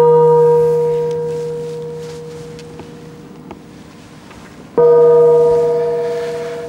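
A gong sounds during a TV quiz show, a clear sustained bell-like tone that slowly fades, then is struck again near the end and rings out at full strength.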